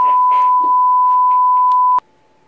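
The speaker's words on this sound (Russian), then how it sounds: "Хватит пищать!" A single long, steady electronic beep holds at one pitch for about two seconds, loud and continuous, then cuts off sharply, with faint background noise before and after.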